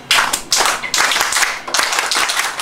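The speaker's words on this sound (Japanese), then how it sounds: "では、手拍子をよろしかったらお願いできたらと思います。" A live concert audience claps along in rhythm, loud, sharp, even claps from many hands in a steady beat, with brief gaps between phrases.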